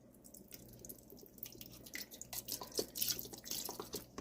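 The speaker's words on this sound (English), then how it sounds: "And I add some red wine vinegar." Red wine vinegar pours into a pot of chili, a close, soft run of trickling, dripping liquid that builds in the second half with no voices.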